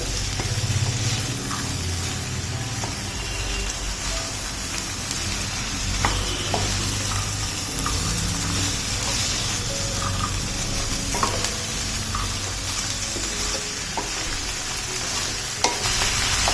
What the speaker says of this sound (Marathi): सगळं एकजीव करून घ्यायचं भाज्या छान परतून घ्यायच्यात सगळ्या भाज्या व्यवस्थित परतून घेऊया